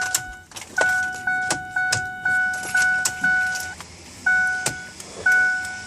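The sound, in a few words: Ford F150 turn signal clicking normally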